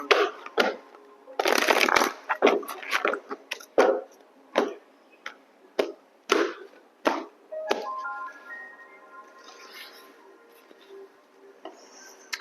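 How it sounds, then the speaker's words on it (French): Tarot advice cards being shuffled up close, a run of crisp riffling bursts and slaps for several seconds, then quieter handling with a faint tonal hum in the background. "On va prendre les cartes conseils du tarot."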